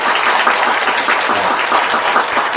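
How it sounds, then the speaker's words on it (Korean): Church congregation applauding at a thanksgiving service, a dense, steady wash of many hands clapping loudly and close, sustained throughout with no break. "요럴 때는 한번 박수 한번 쳐줄만 합니다."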